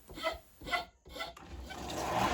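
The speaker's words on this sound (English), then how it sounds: "bring it up to the line using rasp and files" Rasp and files work by hand on a wooden base plug for a carved horn, giving three rough, rhythmic rasping passes, close and fairly loud, followed by a steadier, continuous scraping stroke.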